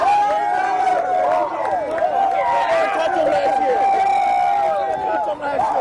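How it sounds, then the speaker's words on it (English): Stadium crowd at a 2006 Hawaii high school football game between Kahuku and St. Louis, a dense roar of applause and cheering with many voices shouting over it, steady and loud throughout. "let's give a warm round of applause to these two fine teams"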